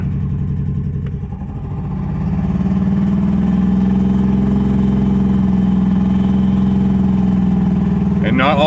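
A 1998 Ford Windstar minivan engine, restarted after sitting 14 years with not all cylinders firing, idles steadily at close range, a low rumbling drone with a slightly lumpy, stumbling rhythm throughout.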